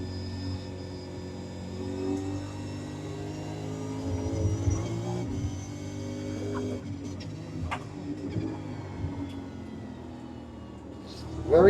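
A steady V8 Supercar engine drone in the iRacing sim hums under the scene, rising and settling slightly as the car revs through a drifting lap at Watkins Glen, fairly faint and continuous.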